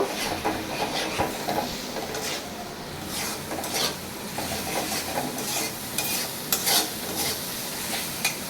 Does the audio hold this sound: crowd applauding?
no